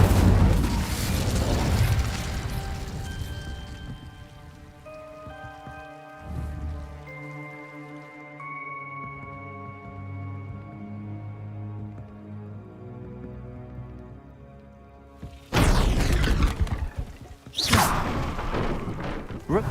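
Fire spell blasts cast in Hogwarts Legacy, loud broadband bursts at the start and again near the end, separated by a sustained tonal musical passage with a voice speaking.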